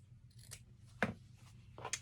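Scissors snipping through denim to cut jeans pockets free, a few sharp separate cuts close by in a quiet room with no talk.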